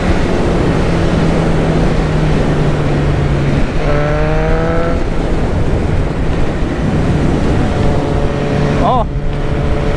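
BMW 1000cc sportbike engine droning steadily under strong wind rush while riding, its pitch rising briefly as gears change, loud and close throughout.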